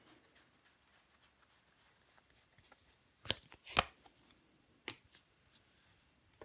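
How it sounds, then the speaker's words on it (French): Tarot cards laid down on a table, a few sharp slaps and taps standing out against quiet, with two close snaps around the middle and a lighter one after. "Mais je vais recouvrir des cartes."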